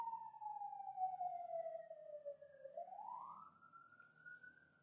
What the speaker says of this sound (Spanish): esperemos que pase a la ambulancia